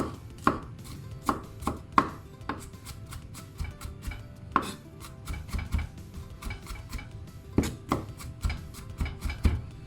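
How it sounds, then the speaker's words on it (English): Knife chopping garlic on a cutting board, a run of sharp, irregular taps up close, coming in quick clusters with short pauses. "Chop it coarsely."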